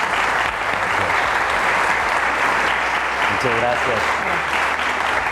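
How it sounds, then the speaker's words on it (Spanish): A forum audience at a migration panel welcomes arriving guests with dense, sustained applause that holds steady and loud throughout, while a voice briefly speaks near the end. "nos gustaría que recibieran con un fuerte aplauso"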